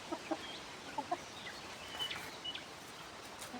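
Chickens, including a rooster calling hens to food, cluck softly in a few short bursts over faint outdoor background noise, with a couple of scattered calls following.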